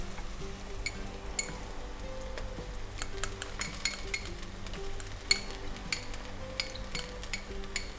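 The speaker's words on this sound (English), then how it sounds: "At this point, we need to add the ginger garlic paste to this." Ginger garlic paste sautéing in oil with cooked onions for a mutton curry, a faint steady sizzle broken by soft clinks and scrapes of a spoon against the pan.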